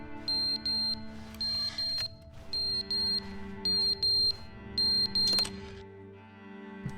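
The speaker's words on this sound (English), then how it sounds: "The fire alarm's going off?" A fire alarm sounds in The Stanley Parable, a bright electronic beeping in regular paired pulses repeating steadily over a low background hum, then cutting out near the end.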